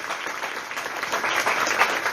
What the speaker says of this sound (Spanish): démosle otro fuerte aplauso a la doctora Mila